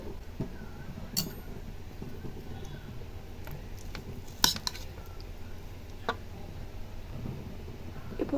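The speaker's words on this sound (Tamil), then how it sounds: "இப்போ இந்த ஸ்மேஷர் வச்சு நல்லா இதை பொட்டேட்டோவை நல்லா பொடியாக பண்ணிடலாம்." Boiled potato and jackfruit seeds being mashed with a potato masher in a home kitchen for cutlets, with soft repeated thuds and a few sharp metallic clinks against the vessel over steady low background noise.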